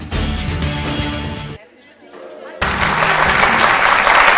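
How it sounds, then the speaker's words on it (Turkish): Loud applause from a TV studio audience fills the clip, breaking off briefly into a quieter gap before resuming even stronger. "Teşekkür ederim güzel alkışlarınıza."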